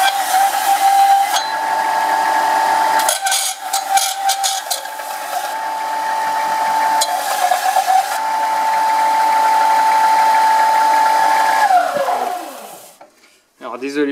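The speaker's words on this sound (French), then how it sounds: "je vais le dégrossir à la ponceuse stationnaire" A stationary sander roughs down a wooden pen blank with a continuous, loud mechanical whine and rattling grind that runs steadily, then winds down and stops near the end.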